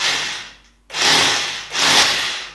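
A power drill bores a hole into a wall in short bursts, two loud whirring runs separated by a brief pause.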